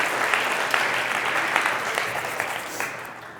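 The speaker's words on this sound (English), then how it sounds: "Give her a big round of applause" An indoor audience claps together in a full, continuous round of applause at a devotional gathering, steady and fairly loud, slowly thinning toward the end.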